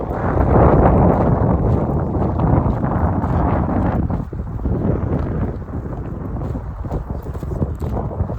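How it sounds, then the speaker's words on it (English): Strong wind of about 30 miles an hour gusting across an abandoned quarry in Quincy, loud and continuous, buffeting the microphone with a steady roar throughout. "My gosh, it is really, really windy."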